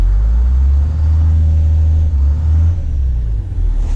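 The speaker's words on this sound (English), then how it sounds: "I can actually hear the turbo" A heavy bus diesel engine with a turbo idles loudly and close by, a deep steady rumble with faint higher turbo whine above it, continuous throughout.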